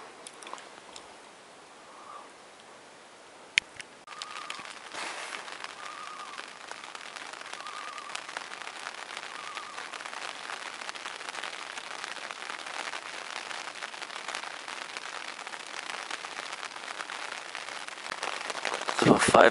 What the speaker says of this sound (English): Anyways, raining a little harder now, but hopefully it stops by the time I gotta get out of here.